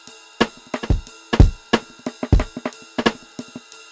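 A drum and bass beat programmed in Ableton Live: sharp snare and kick hits in a fast, busy, broken rhythm, with loud punchy transients over a faint tonal pad and no talking.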